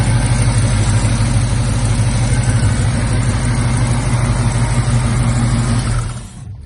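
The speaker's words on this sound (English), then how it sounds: "Nice idle, revs well" A 1968 Mercury Cougar engine idles steadily with a deep, rumbling low throb, loud and close, then cuts off abruptly near the end.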